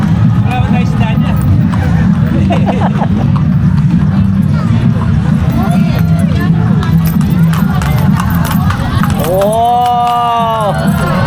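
Horses' hooves clip-clop steadily on a road during a horseback ride in Plaridel, Bulacan, with crowd chatter and voices throughout and a brief high tonal sound near the end.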